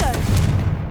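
Confringo fire spell going off in the Hogwarts Legacy video game, a loud burst of crackling, gunfire-like blasts with a low rumble, fading quickly, with a voice briefly present.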